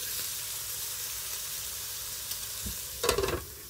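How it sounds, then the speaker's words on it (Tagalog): Eggplant and pork belly rolls seasoned with dark soy and oyster sauce sizzle steadily on a grill, a constant close hiss with a few brief crackling spikes near the end. "lutuin natin siya sa paraan ng pag-grilled"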